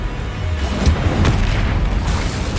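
Confringo and Incendio spell blasts from Hogwarts Legacy land as heavy, rumbling booms over game ambience, with a couple of sharper impacts standing out.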